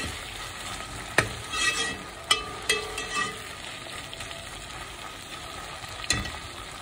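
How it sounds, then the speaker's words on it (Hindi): Ginger garlic paste frying and being stirred in a pan for beef shami kabab, a soft steady sizzle broken by several sharp spoon scrapes and clinks against the metal. "इसे भी हम अच्छी तरह से फ्राई कर लेंगे। मिक्स करके इसको फ्राई कर लें"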